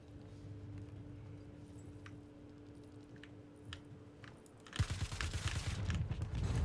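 Gunfire in the Star Citizen video game: after several seconds of quiet, a loud, dense burst of rapid shots and impacts erupts and continues to the end, close and harsh.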